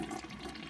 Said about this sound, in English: here's a flush with the tank full